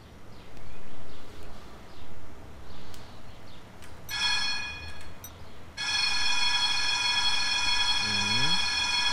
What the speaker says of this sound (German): Ah, ich habe zumindest die Hupe gefunden.